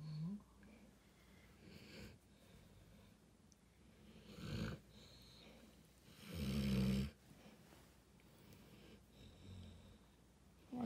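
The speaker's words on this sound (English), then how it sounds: "snoring when Antoine's sleeping" An old dog snores while asleep, soft, irregular wheezing breaths with a louder snort-like burst midway, faint and close in a quiet room.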